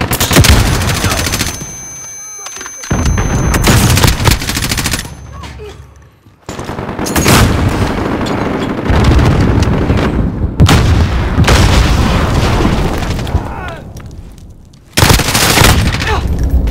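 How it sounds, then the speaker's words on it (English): Call of Duty Modern Warfare team deathmatch gameplay with a stun grenade going off amid heavy gunfire, loud bursts of automatic shots and booms broken by brief gaps, with voices talking over the action. "Stun bomb out!"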